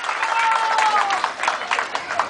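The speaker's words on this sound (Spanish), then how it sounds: "Fuertísimo ese aplauso para estas niñas que lo saben hacer bastante bien." Audience applause and crowd noise after a children's Tahitian dance at a Children's Day event, bursts of clapping fading and scattering, heard under a voice speaking over it.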